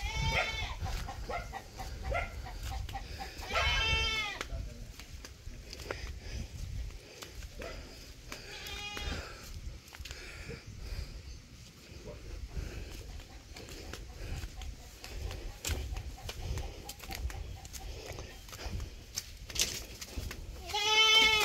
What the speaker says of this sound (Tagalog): May mga kambing.